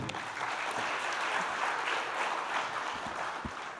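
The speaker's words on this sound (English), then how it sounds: "let's clap for all of us here." An audience claps steadily at a felicitation ceremony, a dense even patter of many hands sustained throughout without voices on top.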